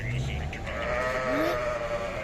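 Sheep bleat amid a busy crowd of livestock at the Sokuluk livestock market, with people talking loudly nearby and a wavering animal call rising over the constant murmur.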